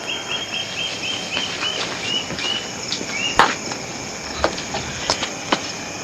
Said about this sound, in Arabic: صوت الطيور والكروان والضفادع، الله قد ايه جميل. دي اصوات الطبيعة